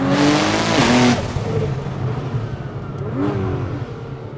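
A tuned 1900 hp Nissan GT-R roars loudly as it accelerates on the street, with rising gear pitches, a drop between shifts and a short wastegate hiss as the revs fall.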